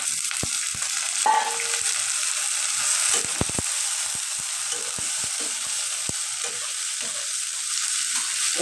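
Pieces of pointed gourd and potato go into a pan of fried onions and sizzle loudly and steadily. Scattered clicks of a spoon stirring the pan come through over the frying.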